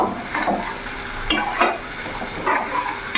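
Cumin powder and spice paste with a splash of water are stirred in a pan, giving a steady low sizzle under rhythmic scraping strokes of the spoon that recur every second or so.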